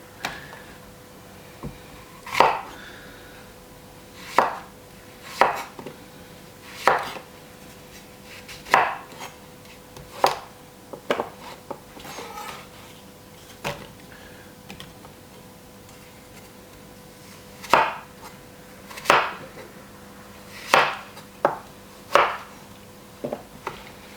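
A knife chops fruit, apples or plums, on a board for a roasted chicken marinade, giving sharp, distinct cuts at irregular intervals, close and clear with no talking.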